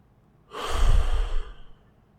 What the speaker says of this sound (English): take a deep breath and breathe in that void.